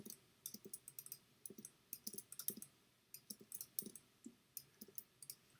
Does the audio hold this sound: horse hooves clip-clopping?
no